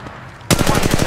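Automatic weapon fire in the mobile game Apex Legends Mobile on Kings Canyon bursts in abruptly after a short quiet moment, a rapid loud string of close shots.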